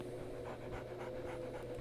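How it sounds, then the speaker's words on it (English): A dog pants in the Sherlock Holmes: The Awakened video game, in quick rhythmic breaths over a steady low hum, close and fairly quiet. "So, Barnes has a dog now."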